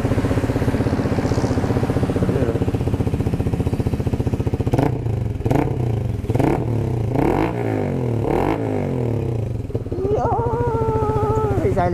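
A Rapid 150 motorcycle fitted with a modified aftermarket muffler idles loudly up close, then gets several sharp throttle blips in a row before settling back to a steady idle.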